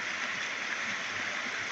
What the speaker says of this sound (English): You can hear the sound of the mini waterfall.